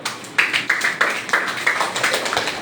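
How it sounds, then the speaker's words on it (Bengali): Children clapping their hands in a classroom, a run of about eight sharp, loud claps in a steady rhythm, close by with no talking. "হাততালি দাও।"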